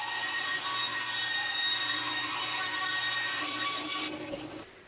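Hand sawing through wood to cut a subframe for a homemade table saw, a steady continuous rasping stroke up close that runs unbroken for several seconds before tapering off at the end.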